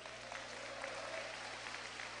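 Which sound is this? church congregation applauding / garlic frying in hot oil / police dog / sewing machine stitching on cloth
church congregation applauding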